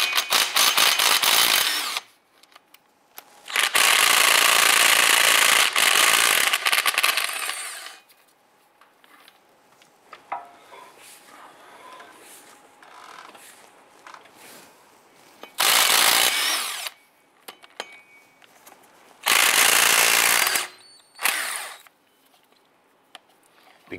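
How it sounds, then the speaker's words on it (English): A power tool with a 15 mm socket loosens bolts under a 2002-2008 Dodge Ram 1500 during catalytic converter work, firing several loud, sustained whirring bursts separated by quieter clinks and handling noises. "Using a 15 millimeter socket, let's go ahead and loosen and remove these bolts."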